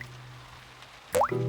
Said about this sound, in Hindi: बारिश का पानी घर के अंदर आ रहा है।